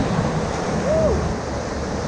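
A raft runs through standing waves on the Ocoee River, with a steady rush of churning whitewater and wind noise throughout and a brief faint tonal whistle in the middle.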